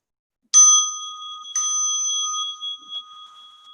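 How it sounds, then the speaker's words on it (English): A mindfulness bell is struck twice about a second apart, each strike giving a clear, sustained metallic ring that slowly fades in a quiet room, with no talking. "as you listen to the bell, please sit comfortably with your eyes drooped or closed"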